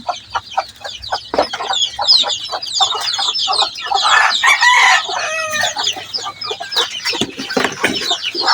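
Hens clucking close up in quick repeated bursts, several birds overlapping, with a louder drawn-out squawk in the middle; no people speaking.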